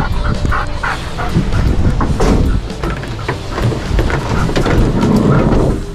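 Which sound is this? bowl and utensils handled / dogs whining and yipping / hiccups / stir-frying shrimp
dogs whining and yipping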